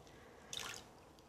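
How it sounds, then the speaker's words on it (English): Water dripping and trickling from a squeezed, fleece-lined wool hat being wrung out after hand washing, a brief soft splattering burst in a quiet room. "gently lift it out, squeeze out as much water as I can"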